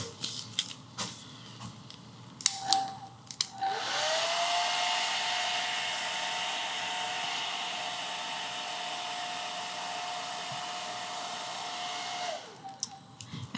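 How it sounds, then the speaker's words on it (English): Hair dryer drying paint on a handmade Christmas card: a few handling clicks, then a steady loud whooshing blower running for about eight seconds before switching off, with small taps around it and no talking. "let me grab my hairdryer"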